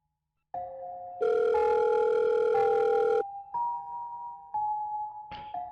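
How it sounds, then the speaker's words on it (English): Phone call ringing through a car speaker in a horror otome video game: clean electronic ring tones in stepped bursts with shifting pitches, loud and close, no voices. "The ringing of the phone echoed across the cramped space through the car speaker."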